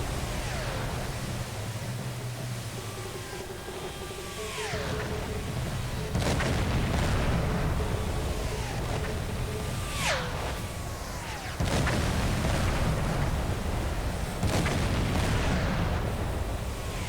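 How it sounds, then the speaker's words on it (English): A Japanese submarine's deck gun firing in Silent Hunter IV, heavy booming shots landing every few seconds over a steady roar of sea and engine noise, with descending whistles of incoming shells. "Is that like a 3-inch gun?"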